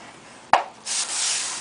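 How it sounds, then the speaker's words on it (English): Cardstock being scored lengthwise with a scoring tool while making a triple-pocket tea bag holder card: a sharp tap, then a steady scraping rub along the fold line, close and moderately loud with no talking. "you're going to score those lengthwise at 1/2 inch on either side."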